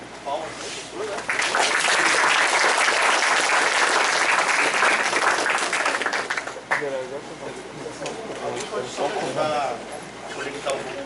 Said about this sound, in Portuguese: Então, palmas para o professor